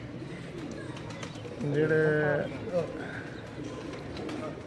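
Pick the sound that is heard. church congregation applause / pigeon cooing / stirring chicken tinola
pigeon cooing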